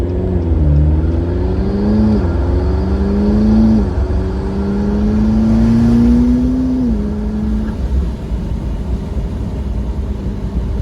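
A McLaren MP4-12C sports car engine revs repeatedly, its pitch climbing and dropping through several gear changes in a loud, sustained drone with no talking.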